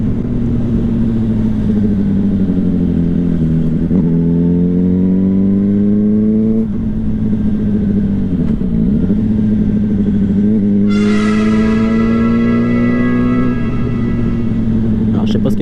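A car is driven while its engine drones loudly and steadily. The pitch climbs and drops as the car speeds up and changes gear, with a brighter whine at the end.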